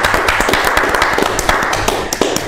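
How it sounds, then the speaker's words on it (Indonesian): Audience clapping for the chairman of an Indonesian university foundation at an evening event, a dense steady patter of many hands that runs throughout, fairly close and loud. "Beri tepuk tangan untuk beliau."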